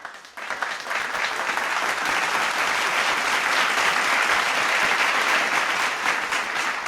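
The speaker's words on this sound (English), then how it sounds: "Is the delayed clapping for me?" Applause from a comedy show audience swells after a brief quiet start, then holds as a thick, steady wash of clapping to the end.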